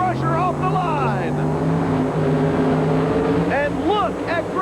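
Grave Digger and Crusher monster trucks launch off the line in a 1992 race in Pueblo, Colorado, their engines rising in pitch with a sustained roar beneath an excited announcer.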